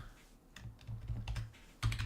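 Soft computer keyboard typing in a few scattered keystrokes with a short burst near the end, faint against a low steady hum and no talking.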